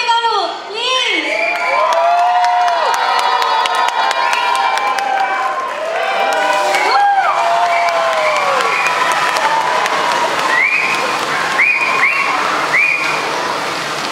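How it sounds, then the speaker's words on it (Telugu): A large crowd at an Ugadi celebration applauds and cheers with shouts, whoops and whistles, the noise sustained and loud throughout, and voices calling out over the continuous clapping. "మీరు గట్టిగా ఒకసారి క్లాప్ చేసి ఇస్తే వాళ్ళు ఇంకా ఎనర్జెటిక్గా పర్ఫామ్ చేస్తారు"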